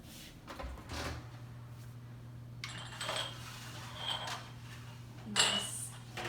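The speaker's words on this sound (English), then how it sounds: "get my jars out of the oven" Small hot glass jars come out of an oven and are set down in a kitchen. Faint clinks and knocks of glass and an oven door or rack sit over a low steady hum, with no talking.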